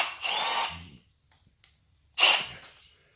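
Drill-driven outer reamer chamfer tool cutting construction grade threaded rod: two short harsh, whining grinding bursts separated by a brief quiet gap, close and loud.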